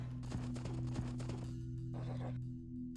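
Scout cavalry horse hooves clopping in Age of Empires 2: HD Edition, a quick run of rhythmic clip-clop steps over a steady low game hum, followed by quieter ambient game sounds.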